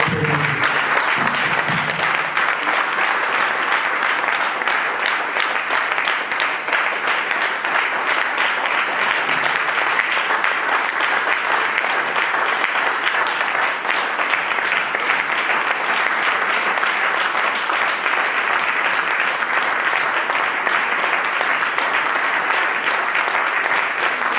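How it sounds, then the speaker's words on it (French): A church audience applauds a pastor in a long, dense, unbroken wall of clapping that stays loud and even from start to finish, with no talk over it. "si nous pouvons tous acclamer cet homme"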